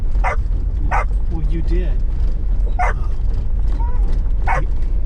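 A dog inside a vehicle yips and barks in four short bursts, apparently at its own reflection in a mirror, against a steady low engine rumble, with a brief spoken remark between the barks.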